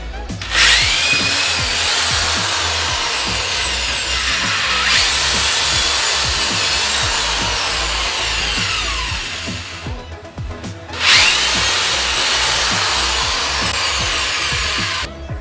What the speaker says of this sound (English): And then I'm just screwing my framework down.